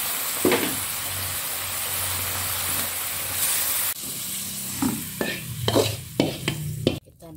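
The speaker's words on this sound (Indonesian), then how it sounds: "Buat tumis kacangnya ya teman-teman." Peanuts being stir-fried in a pan give off a continuous sizzling hiss, with spatula scrapes and clatters growing busier toward the end; close and alone.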